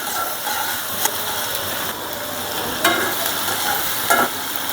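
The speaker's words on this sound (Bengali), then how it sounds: "চিংড়ি মাছটা হালকা ভাজা হয়ে গেছে" Shrimp frying in a pan with chopped garlic and a green chilli, giving a steady loud sizzle broken by a few scraping stirs, with no talking.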